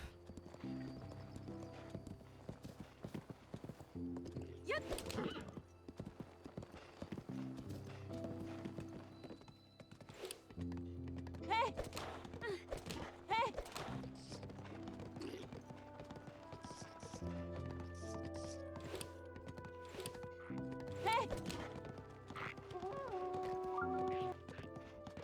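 Rapid rhythmic clip-clop of horse hooves at a gallop in a video game, continuing for a long stretch, with faint game background sounds underneath.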